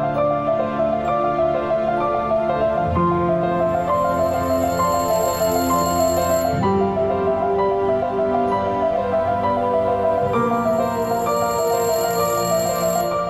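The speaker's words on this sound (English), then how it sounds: "Campbell tells us there's literally almost a phone ringing." A telephone rings with a melodic, tonal ringtone that repeats its pattern steadily for several cycles, loud and alone with no voices.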